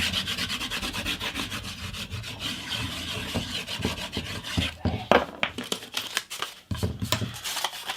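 Wax rubbed by hand onto the wooden base of a veneer clamp in a guitar-building workshop, a steady close scraping and rubbing with irregular strokes and a few sharper scuffs toward the end.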